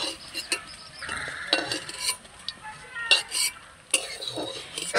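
Fried spinach fritters are lifted out of a frying pan, with sharp clinks and scrapes of a metal utensil against the pan over a soft background sizzle, close and intermittent.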